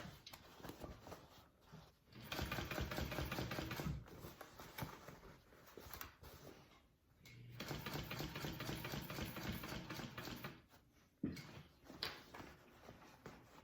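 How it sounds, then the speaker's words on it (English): A sewing machine topstitching around a fabric hobo bag, running in steady mechanical stretches several seconds long with short pauses between, fairly quiet and close. "I'm just gonna top stitch it down around the bag"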